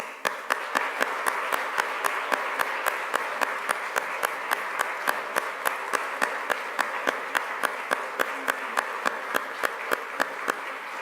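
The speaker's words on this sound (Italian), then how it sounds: "gli facciamo un applauso come Chiesa?" Applause from a church congregation at a Sunday service, a steady field of clapping with a few louder, evenly spaced claps standing out in a regular rhythm throughout.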